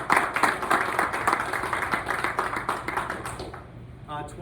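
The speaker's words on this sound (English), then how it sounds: "If we can give them a round of applause" At a capital-area roundtable meeting, a modest audience gives a brief round of clapping. The clapping is fairly soft and sparse and thins out toward the end, with voices faint underneath.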